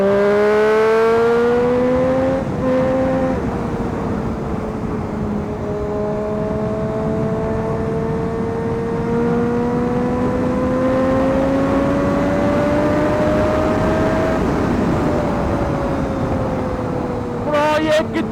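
A Triumph Daytona 675 motorcycle pulls hard at full throttle, its engine whine rising steadily through the gear, then dropping at a shift before climbing again, loud and close with rushing wind noise throughout.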